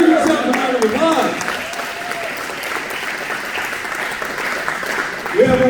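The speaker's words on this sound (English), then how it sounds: "Give yourself a round of applause." A comedy show audience breaks into steady applause and some cheering, filling the room for several seconds. A host's voice is heard briefly at the start and again as the clapping dies down.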